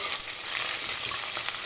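Garlic frying in hot oil in a cooking pot, a steady bright hiss and crackle heard close up, fairly even in level throughout with no voices.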